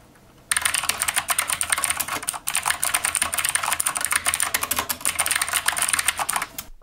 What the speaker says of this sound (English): those are pretty loud, like a mechanical keyboard